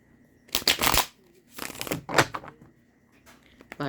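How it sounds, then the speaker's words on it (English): Tarot cards are riffled and shuffled in three or four quick, crisp bursts with short pauses between, close up and fairly loud. "let's keep shuffling for our fire signs."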